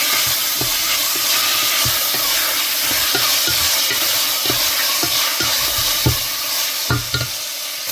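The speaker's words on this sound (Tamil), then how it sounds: "தக்காளி நல்லா கரையிற வரையும் நல்லா வதக்கணும்" Onion and tomatoes sautéing in a hot pan, a loud continuous sizzle broken by regular scraping knocks of a spoon stirring against the metal.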